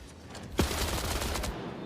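A short burst of rapid hip-fire gunfire erupts in a ranked video game match, one loud crack followed by close, continuous automatic shots for about a second.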